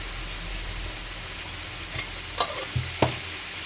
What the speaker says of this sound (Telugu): ఇప్పుడు దీంట్లో ఉల్లిపాయలు వేసేస్తున్నాను. అలాగనే పసుపు కూడా వేస్తున్నానండి.